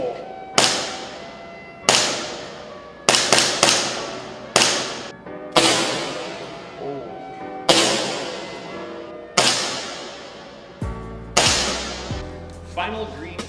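An ASG CZP09 Urban Gray airsoft pistol fitted with an Acetech Lighter-R tracer unit fires green tracer BBs: about ten sharp, close reports at irregular intervals, each ringing briefly before the next.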